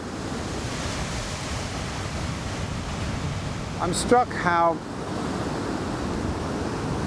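Indian Ocean surf breaks along the Robberg Peninsula on South Africa's south coast, a steady broadband wash of waves and wind, briefly interrupted by someone speaking a few words.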